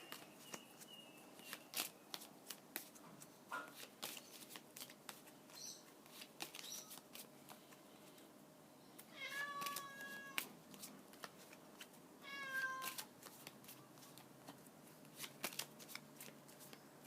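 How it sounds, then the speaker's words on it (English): Tarot cards being shuffled by hand, repeated quick riffling bursts close to the listener and fairly quiet, with brief cat meows in the background between shuffles. "Think of your question as I shuffle"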